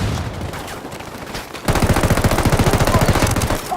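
Rapid automatic gunfire erupts in Ghost Recon Wildlands, starting abruptly midway as a dense, steady burst of loud, close shots after a quieter stretch of background rumble.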